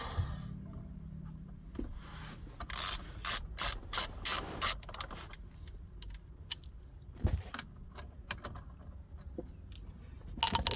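A ratchet with a 19mm socket clicks in quick bursts, loosening the steering wheel nut on a 2008 Nissan Versa, with scattered metallic clinks and handling noises close by in a quiet car interior.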